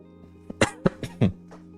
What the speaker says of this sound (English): Sorry to cough in your ear or speakers.